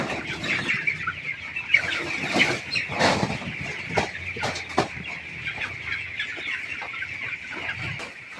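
Several chickens cluck and chatter close by, their short calls overlapping irregularly, with scratchy rustling sounds beneath.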